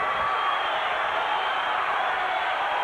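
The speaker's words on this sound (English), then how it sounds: "The crowd is on its feet." A boxing crowd at the Forrest vs Baldomir fight in Tacoma roars on its feet, a dense, steady wall of cheering that holds at full strength from start to finish.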